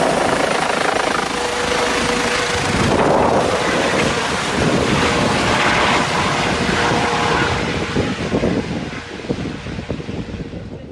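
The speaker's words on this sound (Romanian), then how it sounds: "Era momentul în care elicopterul ateriza lângă creastă." Helicopter landing beside a mountain ridge, a loud continuous rotor and engine roar mixed with heavy wind buffeting, close to the microphone and easing slightly toward the end, with no talking.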